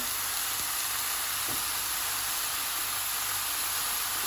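Mushroom stew with vegetable bouillon just added sizzles steadily in the pot, a constant, fairly faint hiss and crackle with no talking.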